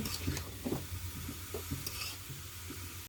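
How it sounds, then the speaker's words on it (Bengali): Pumpkin and egg fry in a pan over low heat, stirred with a utensil, giving soft scraping strokes over a steady close sizzle. "সব কিছু আবার ভালো করে মিক্স করে নেব"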